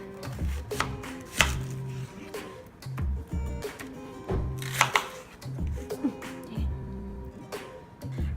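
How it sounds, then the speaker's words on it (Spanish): A knife slices an onion on a cutting board, a series of crisp irregular chopping thuds and taps, close and fairly loud, with brief pauses between strokes. "rebana la cebolla"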